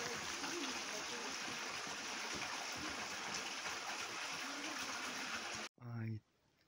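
Water running and splashing steadily at a spot where people collect it in the winter resort park of Kislovodsk, a close, continuous rushing stream that cuts off abruptly before a short speaking voice.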